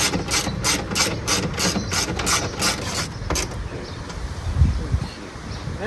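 A ratchet tightens the window regulator bolts inside a first-generation F-body car door, clicking rapidly and evenly for a few seconds, then stops, leaving faint rustling and a couple of soft knocks.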